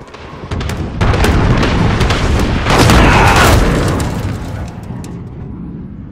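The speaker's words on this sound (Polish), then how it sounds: "Wrogi pocisk manewrujący, kryć się!" A loud, close enemy cruise missile blast in Call of Duty: Modern Warfare, a deep booming explosion that swells over a couple of seconds and rumbles away into a fading tail.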